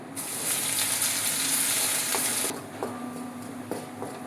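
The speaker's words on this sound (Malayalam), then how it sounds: "നമുക്ക് ഈ എണ്ണയിലേക്ക് ഇഞ്ചി വെളുത്തുള്ളി പേസ്റ്റ് ഇടാം." Ginger garlic paste sizzles loudly in hot oil in a pan, a dense steady hiss that cuts off abruptly midway, leaving quieter crackling and a few light clinks.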